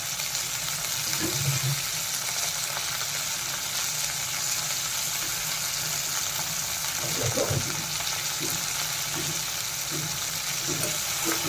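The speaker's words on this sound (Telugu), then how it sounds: "ఇది బాగా వేయించుకోవాలి" Minced mutton sizzles steadily in a pan with mint and coriander, a continuous bright frying hiss with occasional soft stirring scrapes, no talk.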